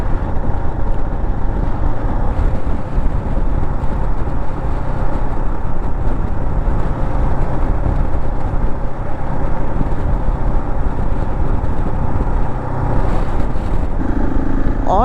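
A Husqvarna 701 motorcycle rides slowly, its engine giving a constant, close, droning rumble mixed with wind and road noise throughout.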